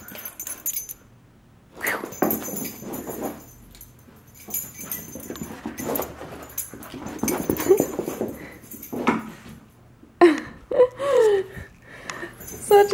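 A puppy whimpers indoors among a pile of toys, with soft high whines and rustling amid jingling, tag-like clinks and shuffling, intermittent and close.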